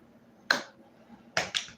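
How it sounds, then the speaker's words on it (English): Three sharp, isolated hand claps in a quiet room, one near the start and a close pair about a second later, each crisp and short with silence between. "You clap your hand."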